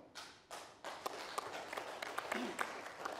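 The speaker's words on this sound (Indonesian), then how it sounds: "Boleh tepuk tangan lagi." Studio audience of a televised talk show clapping in faint, scattered bursts that come in uneven waves and sharp taps over a few seconds.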